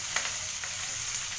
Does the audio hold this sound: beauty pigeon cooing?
no